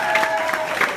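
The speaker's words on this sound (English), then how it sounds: "Let's give another round of applause for these guys" Audience at a storytelling event at The Echoplex in Los Angeles applauding, a short burst of clapping with some cheering.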